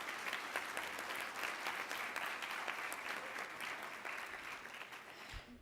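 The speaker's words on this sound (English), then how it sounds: "can I ask you all to give the sponsors and exhibitors a big round of applause?" A healthcare conference audience gives sponsors and exhibitors a sustained round of applause, dense even clapping from many hands, fairly distant and soft, with no voices over it.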